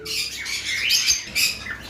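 Lovebirds in a breeding pair setup, including a yellow lovebird, chirp in quick, shrill bursts, several calls overlapping at close range with no talk.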